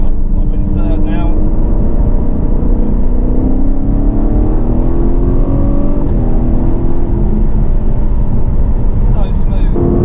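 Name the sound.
Aston Martin V8 Vantage engine while driving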